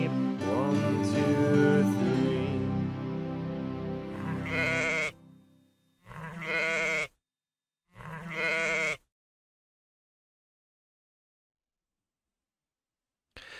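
Sheep-like bleats sung within a children's song about a shepherd boy with three sheep, a loud musical passage giving way to two short separate bleating bursts, then silence.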